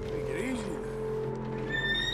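A nervous horse neighs in Red Dead Redemption 2, a short whinny amid game ambience and music, with someone talking over it.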